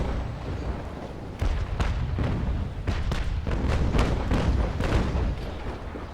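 Ship cannon fire in the video game Naval Action, a run of heavy booming shots at irregular intervals over a loud rumbling background.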